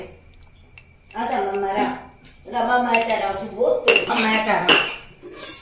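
Cut vegetables are stirred in salted water inside a metal vessel, giving close, rattling clinks and sloshing scrapes in two long bursts with brief gaps, while a person talks at the same time.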